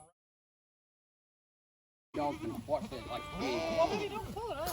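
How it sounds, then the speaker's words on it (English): Several goats bleat close by, wavering cries overlapping one another after a couple of seconds of silence, with some human voice mixed in. "Goats are behind us."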